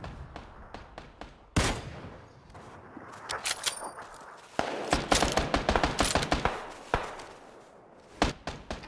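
Rapid bursts of gunfire aimed with iron sights in the video game PUBG, with sharp cracks and quick volleys, some isolated shots between louder clusters, heard with little talk.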